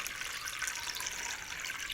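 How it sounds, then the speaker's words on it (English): Tap water pouring into a brush-cleaning tub, filling it up to the grate for washing oil-paint brushes, a steady, fairly quiet hiss and splash running continuously with no talking. "I just fill up to the grate with water."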